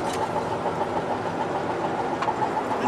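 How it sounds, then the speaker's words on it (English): A steady rumble of a steam train rolling along in North Wales, broadband and continuous, with mechanical chugging texture throughout and no voices. "steam train going along"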